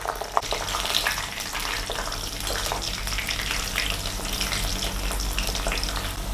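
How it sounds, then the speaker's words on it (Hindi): Okra pieces deep-frying in hot oil for a yoghurt bhindi dish give a steady, dense crackling sizzle with fine bubbling, close and continuous throughout, with no talking. "इसमें हम डीप फ्राई करेंगे अपनी भिंडियों को।"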